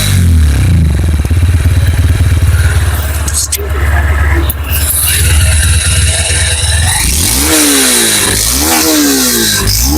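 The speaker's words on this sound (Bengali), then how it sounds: "এই ছিল এক্সজস্টের সাউন্ড।" A Honda Hornet 2.0 motorcycle exhaust roars loud and close, idling with a rough pulse before several sharp revs rise and fall near the end.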